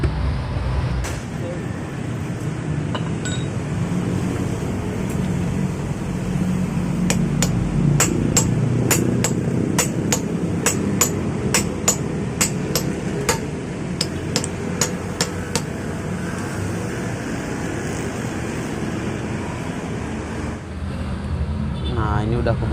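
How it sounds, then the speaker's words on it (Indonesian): A string of sharp metallic strikes from a large hammer knocking the shaft out of a Maktec angle grinder bearing, quick and steady, over a constant background hum of machinery and traffic. "di sini saya ngegetoknya pakai martil yang gede ya"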